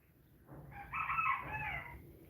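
A goose calls once, close and fairly loud, a honking cry of about a second with a nasal, harmonic tone. Quiet room noise surrounds it.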